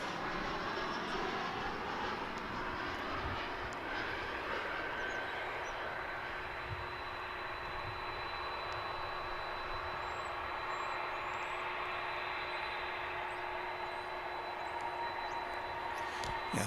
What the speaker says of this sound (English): Oh no, it was an Embraer 175.